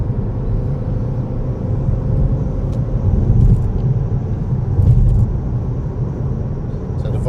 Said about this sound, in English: Of course I'm driving in a car.